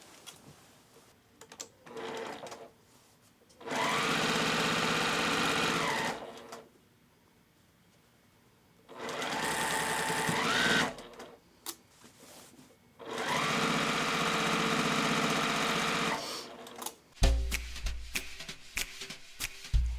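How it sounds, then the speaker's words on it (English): A sewing machine stitches the outer border onto a quilt in three long, loud, steady bursts of rapid mechanical whirring, separated by quiet pauses and fabric handling, with a clunk of handling at the end. "when we're going to sew the outer border to your quilt"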